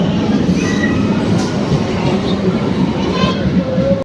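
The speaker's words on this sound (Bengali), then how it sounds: "তো গাইস কাটোয়া যাওয়ার গাড়ি চলে এসছে, এই গাড়িটা কাটোয়া যাবে" A crowded local train bound for Katwa rumbles into a station, a loud, steady, low mechanical roar with faint squeals, under a busy crowd murmur of voices.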